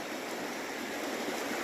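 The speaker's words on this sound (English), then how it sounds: "Water is a little brownish, but it's moving really fast." Fast-flowing brownish stream water rushing steadily at close range as a continuous broadband wash with no pauses or voices.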